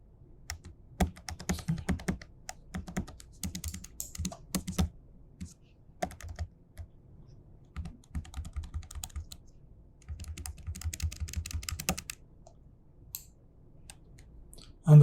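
Computer keyboard keys pressed to steer the view in the Unity Editor, quick clustered bursts of close clicky typing separated by short pauses, with no talk.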